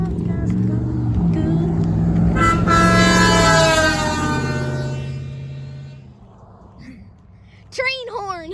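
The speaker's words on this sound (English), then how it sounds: "Train horn." A horn blares in one long, loud, sustained honk that fades after a few seconds, followed by a voice reacting nearby.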